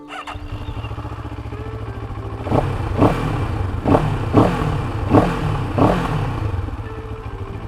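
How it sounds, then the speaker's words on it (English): A 2022 CFMOTO 700CLX Heritage parallel-twin motorcycle idles with a deep, even rumble, then is revved in about six quick, punchy throttle blips that each fall back to idle, loud and close, with no voices. "Nice baritone of a parallel twin."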